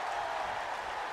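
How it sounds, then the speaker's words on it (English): Arena crowd in a WWE2K24 wrestling match, a steady wash of distant cheering and applause roaring without a break. "Cura getting a lot of cheers recently, I've realized."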